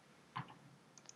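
A single faint, dry click from a mouse in a SimCity menu, followed by a couple of tinier ticks in an otherwise quiet moment.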